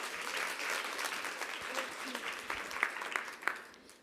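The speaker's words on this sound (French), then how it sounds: "Vous pouvez l'applaudir parce que ça l'encouragera." Applause from an audience at a French-language talk, fairly faint and distant, thinning toward the end with a few sharper individual claps standing out.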